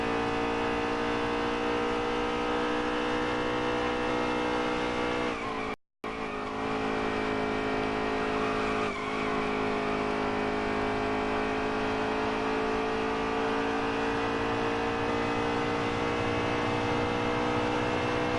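A race car engine holds a steady high drone through a lap in a racing video game, loud and continuous, with tires hissing beneath and one brief cutout early on.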